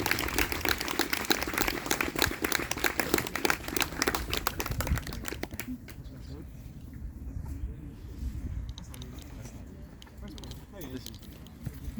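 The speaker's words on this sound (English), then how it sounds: "Round of applause." An audience claps at a school band awards ceremony, a lively burst of many hands for about five seconds that fades to scattered claps and quiet room murmur.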